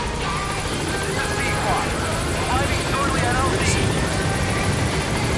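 Steady, dense rotor and engine roar of a helicopter in flight in the video game Metal Gear Solid 5: The Phantom Pain, loud and constant throughout, with faint voices mixed underneath.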